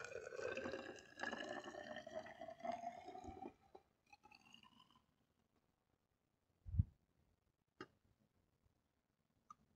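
Nitric acid pours into a container with a gurgling, rising trickle for a few seconds. Faint drips, a soft thud and a couple of light clicks follow in near quiet.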